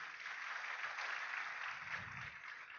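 Faint, steady applause from a seminar audience fills the whole stretch as a continuous distant wash of clapping, with a brief low murmur near the end.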